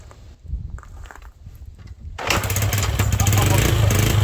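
A 1974–75 Honda XL125 motorcycle fitted with an SL100 engine, choke on, fires after a single kick and settles into a loud, steady running engine note, preceded by a couple of seconds of quieter shuffling and handling noise.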